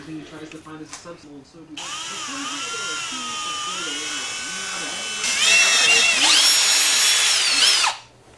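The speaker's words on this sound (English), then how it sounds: "And now we drill." A power drill whines steadily for several seconds while drilling a Honda Grom handlebar, rising in pitch and loudness partway through before stopping abruptly; brief talk comes just before it starts.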